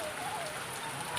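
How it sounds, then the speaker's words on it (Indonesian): Steady rain falls as a soft, even hiss of drops on surfaces, continuous and fairly faint, with no voices. "Hujan selalu."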